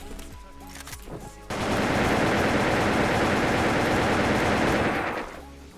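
Automatic gunfire in the online shooter game Wolfteam: after a short stretch of mixed game sounds, a loud, sustained machine-gun burst rattles continuously for several seconds, then fades out.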